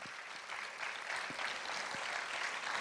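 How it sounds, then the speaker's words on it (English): Steady, dense applause from a conference audience, a continuous wash of many hands clapping at moderate volume with no voices over it. "My lovely audience, let's keep the applause going."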